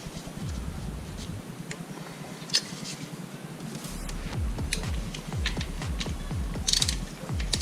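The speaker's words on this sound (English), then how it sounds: "Drain bolt, and you want to put this at 31" Repeated ratcheting clicks from a torque wrench tightening the oil drain bolt on a 2013 Yamaha FZ8 motorcycle, a fairly steady mechanical clicking close by with a low rumble underneath.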